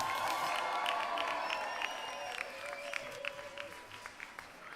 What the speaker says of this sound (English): I said give them a big round of applause.